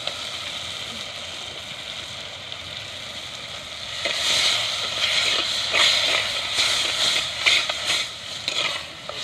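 Snail meat sizzling as it fries in a pan with sautéed ingredients, a steady broadband hiss that grows louder and busier after the meat goes in, with faint stirring clatter.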